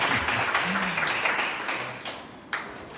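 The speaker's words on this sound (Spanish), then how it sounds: "Yeah, you can clap for Sandino." An audience claps and applauds for Sandino during a gathering in Nicaragua, a steady wash of many hands over three seconds with a voice faintly underneath and a few sharper claps standing out near the end.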